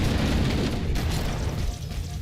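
A grenade goes off in Halo: Combat Evolved on Legendary difficulty with skulls on, a loud sustained blast with a long rumbling tail and no talking.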